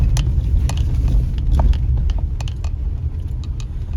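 A car climbs muddy, rural Low Gap Road in low gear, its engine a steady, close rumble with scattered ticks and pattering from the tires on the rough surface, and no voices.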